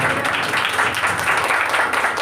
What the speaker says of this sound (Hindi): जोरदार तालियां बजाएंगे खुदा बाप बेटे रूहुल कुद्दुस के लिए